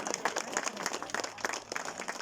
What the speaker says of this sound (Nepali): सबैजनाले ताली बजाइदिनु होला